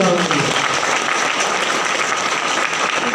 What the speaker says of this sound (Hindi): मेरे अपलाइन मिस्टर दीपक कुमार अग्रवाल जी के जोरदार ताली होनी चाहिए दोस्तों